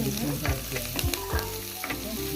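Pigeon pea pod curry with curry leaves sizzles in a hot pan while a spoon stirs it, giving a steady frying crackle broken by several distinct scraping strokes against the pan.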